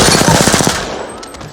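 A full magazine emptied in rapid automatic fire in Apex Legends, a loud, close, evenly spaced burst of shots that stops after about two-thirds of a second and leaves a fading tail.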